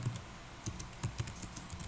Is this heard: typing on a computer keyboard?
yes